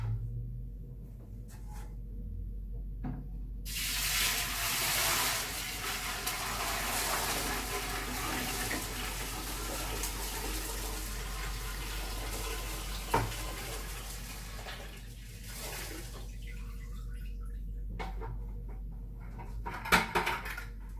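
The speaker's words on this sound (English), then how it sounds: "Now I'm going to fill it with water before I add decor" Water pours steadily into an aquarium fish tank being filled before decor goes in, a continuous splashing rush that starts after a few quiet seconds and runs on with occasional small knocks.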